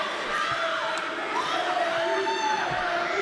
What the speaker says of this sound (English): now this crowd's cheering Jerry